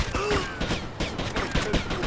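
Rapid bursts of video game gunfire from GTA Liberty City Stories, a loud, dense run of repeated shots and volleys spread through the whole moment with no pauses.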